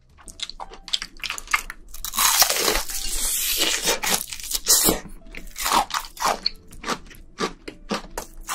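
Fried shrimp tempura is eaten close up, with loud, crisp crunchy bites followed by wet chewing and crackling, repeated over several seconds without talk.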